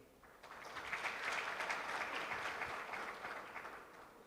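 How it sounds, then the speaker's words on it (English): A round of applause from a crowd swells quickly, holds steady for a few seconds, then tapers off. "A round of applause for BCG team."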